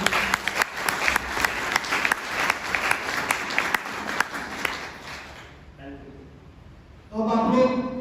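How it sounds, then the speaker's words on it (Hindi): Loud applause from an audience at a grand entry event for a company founder fills most of the stretch with dense, sustained clapping, then fades out into a quieter tail before a voice speaks near the end. "तुम सभी के लिए जोरदार ताली होना चाहिए।"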